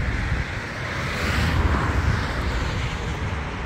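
A diesel Audi runs with a steady, broadband engine roar at close range, holding even from start to end with no one talking.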